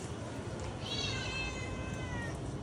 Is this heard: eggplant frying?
no